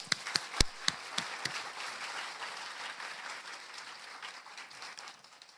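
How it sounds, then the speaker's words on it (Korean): A church congregation at a Sunday worship service claps, opening with a few sharp, loud individual claps before settling into softer, thinning applause that tapers off. "우리 영광의 박수 한번 드릴까요?"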